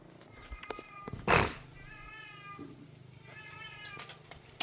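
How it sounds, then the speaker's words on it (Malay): A cat meows several times in a row, moderately close, with drawn-out tonal calls over a quiet outdoor background and a brief louder burst of noise partway through. "Oh, kucing."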